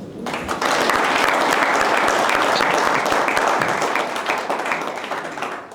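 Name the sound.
applause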